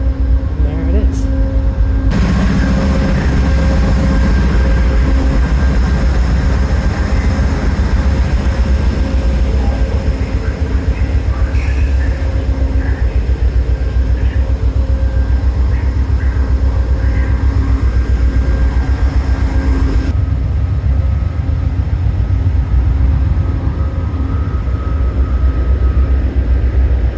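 CTrail commuter train to New Haven, a loud steady rumble and hum throughout with a higher tonal whine, heard up close from on or beside the train, with no clear talk.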